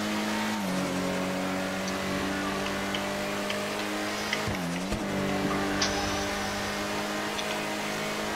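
A car in Grand Theft Auto V idles and revs with a steady engine drone, shifting pitch a couple of times, with faint ticking in the background.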